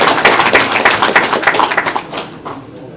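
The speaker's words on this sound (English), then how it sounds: "Maybe you want to give an applause to the president." Audience applause for the president at a Nigerian public event, a dense patter of many hands clapping at steady volume that thins out and fades toward the end.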